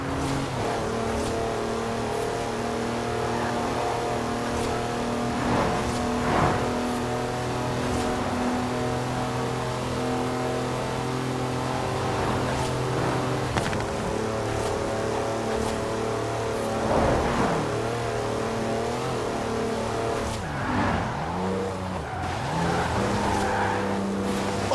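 A 4-wheel drive car on mud tyres drifting sideways in the racing game Forza Horizon 4, with a continuous engine drone and tyre noise swelling and falling throughout, loud and close, no talking.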